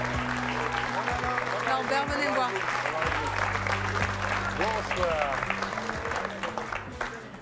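A television studio audience applauds an inventor and his Labrador, a dense sustained round of clapping while a host speaks over it and a low musical drone runs underneath.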